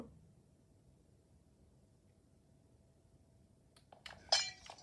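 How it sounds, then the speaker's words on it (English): A glass block breaking in the video game Minecraft: a single short, bright shatter with crisp clinking arrives near the end after several seconds of near silence. "get some more glass and place it and break it"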